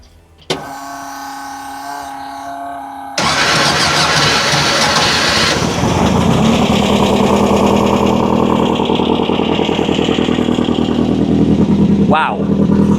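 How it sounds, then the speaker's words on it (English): VW-powered sand rail engine, a loud buzzy starter crank that catches and fires up into a steady rough idle at close range, continuing unbroken to the end. "Fires right up, it idles."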